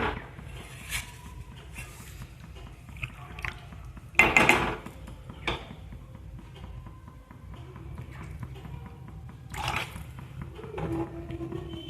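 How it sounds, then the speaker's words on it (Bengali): Water is poured into a pan of chicken curry cooking on the stove. A short splashing pour stands out among soft clinks of utensils and low kitchen noise. "মাংসটা সিদ্ধ হওয়ার জন্য আর একটু জল দেব"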